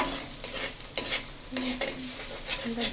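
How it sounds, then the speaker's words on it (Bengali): Eggs fry in a pan for a pasta dish, giving a steady close sizzle broken by short scraping and stirring bursts from a utensil, with no talking. "এবার ডিম ভেজে নেওয়া হচ্ছে"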